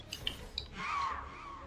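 The bird Screech calls in the Ori video game: a few faint clicks and chirps, then a shrill, wavering screech around a second long, fairly quiet and heard alone.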